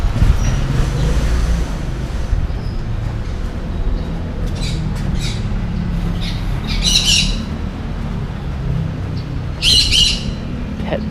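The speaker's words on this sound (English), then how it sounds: "Pet bird." A pet bird beside a canal in Bangkok's old town lets out several sharp, harsh squawks in short bursts over a steady low rumble of outdoor background noise.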